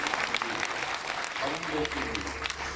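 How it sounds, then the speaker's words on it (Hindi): An audience at a Shiv Mahapuran katha in Bhimtal applauding, a steady broadband clatter of hands lasting the whole moment, with speech and a low hum rising beneath it partway through. "एक बार जोरदार ताली बजाएं"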